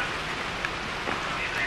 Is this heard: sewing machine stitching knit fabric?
no